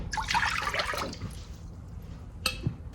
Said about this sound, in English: I'm gonna put 2 jars of homemade turkey broth